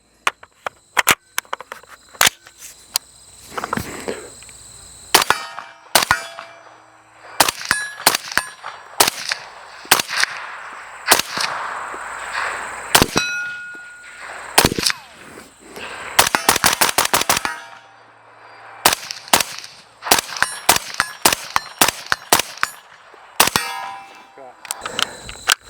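Rapid rifle shots from a Christensen Arms CA5five6 ring off steel targets at roughly 30 to 70 yards, sharp reports and metallic clangs in quick bursts and strings with short pauses between.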